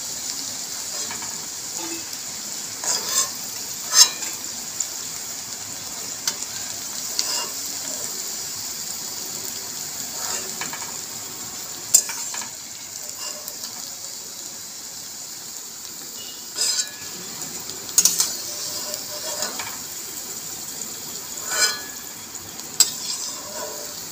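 Lentil fritters (dal piyaju) fry in hot oil, turned until reddish. A steady bright sizzle runs throughout, broken by scattered crackles and pops.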